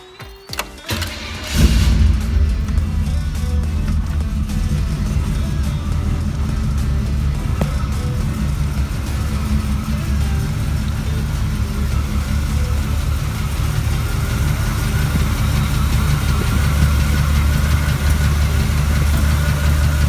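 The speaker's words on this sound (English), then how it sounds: "Let's start the engine and see what we got." A Chevrolet Impala SS engine cranks briefly, catches and starts, then settles into a loud, steady idle that rumbles on close by.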